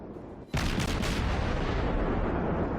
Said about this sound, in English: So while a lot of these shots are bouncing, a lot of them are also managing to penetrate the armour and explode inside